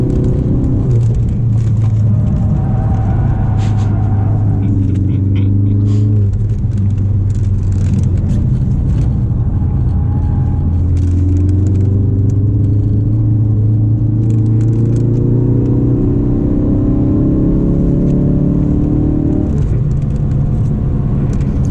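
A Ford Focus RS slides through a drift on a race track at around 80 km/h, its engine droning loud and close with rising and falling pitch over a continuous road rumble.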